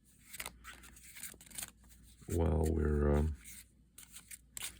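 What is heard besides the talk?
shuffling tarot cards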